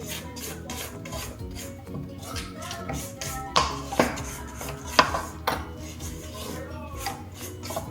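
A spatula scrapes the sides of a mixing bowl of whoopie pie batter, giving soft rubbing strokes broken by a few sharper taps against the bowl.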